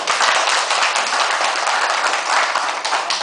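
A meeting crowd applauds the president and the entire cabinet, dense steady clapping filling the whole stretch at even loudness with no speech over it.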